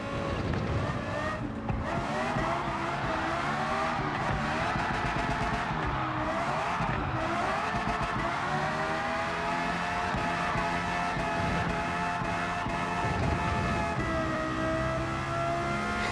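A Lexus LFA races round the Watkins Glen short course in Gran Turismo 7, its high-revving engine wailing steadily and loudly throughout, with shifting pitch as it drifts through corners and faint tire noise.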